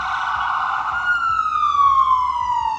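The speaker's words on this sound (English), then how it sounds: "It looks like there's an ambulance coming this way." An ambulance siren wails along a dense street in Vancouver's West End, loud and close, its tone sweeping and then dropping in pitch as the vehicle passes, with faint traffic underneath.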